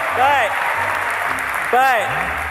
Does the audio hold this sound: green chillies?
no